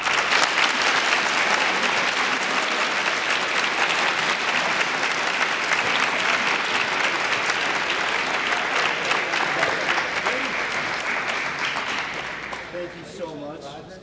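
Sustained applause from a school awards audience honoring high school Scholar Athlete Award winners, dense steady clapping across the hall that thins and fades out near the end.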